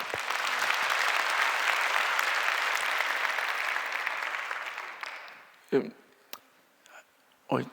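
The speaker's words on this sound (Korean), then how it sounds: "하나님께 영광과 감사의 박수" A church congregation at an evening New Year revival service claps, a dense, loud burst of applause that holds for about five seconds and then fades, followed by a few scattered sounds and a voice.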